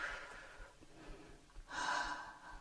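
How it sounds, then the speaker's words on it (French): Two audible breaths during a yoga session: a soft airy inhale followed by a longer, louder exhale through the nose or mouth, close and alone. "On inspire. Et on expire."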